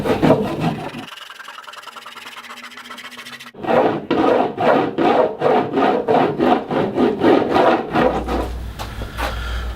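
Close, loud rubbing as a bar of surf wax is worked onto a surfboard deck in about a dozen quick rhythmic strokes, following a quieter stretch of lighter scraping.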